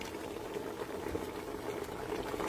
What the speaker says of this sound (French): Et là, je vais mettre un peu d'huile.